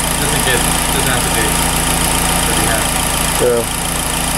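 A Saturn Sky car with a 2.4-litre turbo engine idles with a steady low rumble throughout on its first start-up, while people talk briefly over it.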